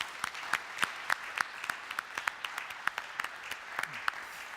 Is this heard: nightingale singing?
no